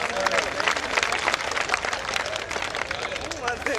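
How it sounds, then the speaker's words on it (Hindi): Audience at a Hindi comedy poetry gathering breaks into sustained applause, dense clapping with crowd murmur and a few voices, steady and fairly loud throughout. "एक बार जोरदार तालियां बजाकर बताइए कि आप मुझे सुन रहे हैं।"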